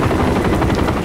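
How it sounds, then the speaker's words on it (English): Helicopters arriving in Call of Duty Modern Warfare III, a loud, dense rotor chop filling a brief moment, close and steady. "More helos inbound."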